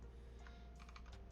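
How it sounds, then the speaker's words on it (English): Quick bursts of computer keyboard typing during an Arch Linux install, a cluster of crisp clicks that grows busier midway, faint and close against a low steady hum, with no voice. "What I'm typing in now"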